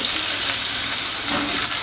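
Rohu fish frying in a pan, a steady, close crackling sizzle of hot oil that fills the short stretch without pause, with no voices over it.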